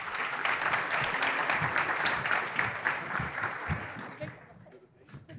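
An audience at a Brazilian financial-market careers event applauds a Santander executive, a dense, even clapping that holds steady before tapering off into scattered claps near the end.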